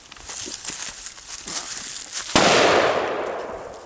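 One sharp, loud shot from a short-barrel gun with a heavy muzzle blast, fired outdoors in the cold. Quiet rustling and shuffling come before it, and a long echoing tail fades after.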